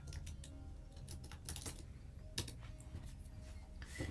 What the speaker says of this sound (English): So I'm just gonna type dvlottery.